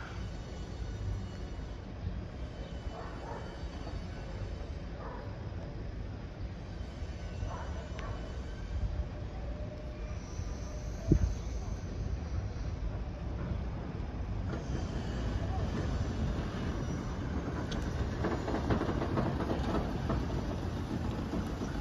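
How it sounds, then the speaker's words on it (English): A Northern passenger train rumbles steadily past Holmes Junction level crossing, a low continuous roar of wheels on track that swells toward the end. "1327 Northern train service from Leeds to Lincoln Central"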